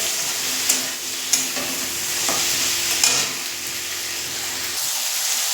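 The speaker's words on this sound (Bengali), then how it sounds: "দিয়ে আরেকটু আমি ভাজা ভাজা মতো করে দেবো।" Fennel seeds, whole cumin, nuts and two kinds of chillies fry in a pan, giving a steady close sizzle with a few sharp scrapes and stirs along the way.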